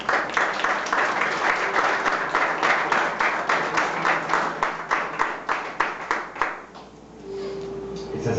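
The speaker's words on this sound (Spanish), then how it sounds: "Den un fuerte aplauso al Señor en esta mañana." Church congregation applauding during a Sunday morning service: dense, sustained clapping from a large crowd for about seven seconds, then breaking off into a quieter room with a low hum.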